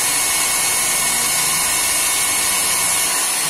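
Power sanding of a carved keris handle during finishing gives a loud, steady, high-pitched whirring grind that holds without pause throughout.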